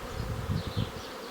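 Honeybees buzz in a soft, continuous drone near the hive, faint and close, with a few slightly louder swells as individual bees pass by.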